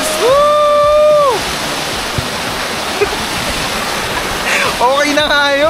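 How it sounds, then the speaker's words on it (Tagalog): Signal Falls in Mariveles roars as a steady, close rush of falling water, while voices call out and cheer over it at the start and end. "At nandito kami sa Signal Falls."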